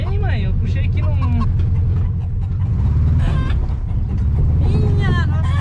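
A Volkswagen Beetle engine rumbles steadily from inside the car as it climbs a small country road, loud and continuous, while people talk and shout throughout.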